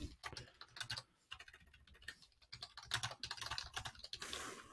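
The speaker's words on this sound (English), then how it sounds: "I can start typing it in." Typing on a computer keyboard, a close, crisp run of uneven key clicks in bursts with brief pauses, ending in a flurry of faster strokes; a single spoken word is heard.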